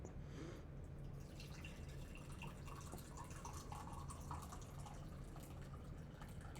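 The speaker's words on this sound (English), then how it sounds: "let me pour my tea so it has a chance to cool enough to drink" Tea poured into a cup, a quiet steady trickle with faint dripping, close and soft against a low background hum.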